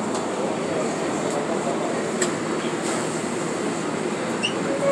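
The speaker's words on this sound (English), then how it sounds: "This is Flushing Main Street bound 7 Express Train." A New York City 7 Express subway train bound for Flushing–Main Street rumbles steadily and close, with broadband rail noise, a few faint metallic squeals and a sharp clack, and no talking.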